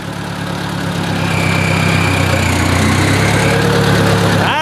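A Ford 800 tractor engine running after its ignition components were replaced, a steady, loud, close low rumble with even firing that holds throughout, with a brief rising squeak near the end.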